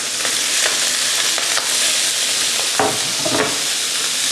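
Cotechino sausage frying in a hot pan with olive oil, giving a steady loud sizzle with a few brief stirring or scraping knocks through it.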